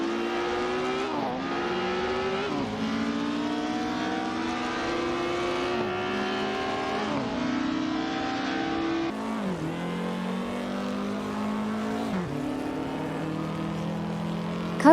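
Several AI-driven 1950s Formula One cars race around Bahrain Circuit, their engines whining and rising in pitch as they accelerate, with steady overlapping roars and repeated gear-change dips throughout, loud and close.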